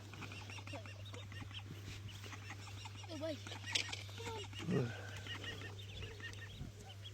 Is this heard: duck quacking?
yes